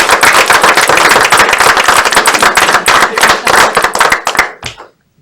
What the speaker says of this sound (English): I think a round of applause is necessary and